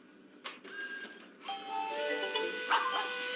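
A messaging app's dog-bark notification sound plays a few short, clear woofs, then ringing electronic tones that hold steady and close.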